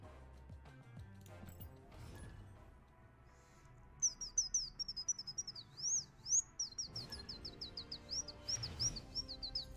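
A person whistling an imitation of a bird call, a rapid series of high chirps and warbling tweets, loud and close, following a stretch of soft background noise.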